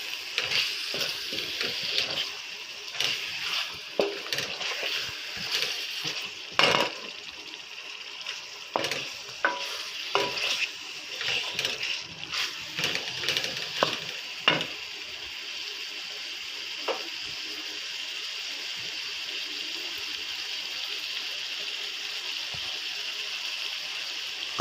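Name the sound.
masala spices being fried and stirred in a pan for gobi gosht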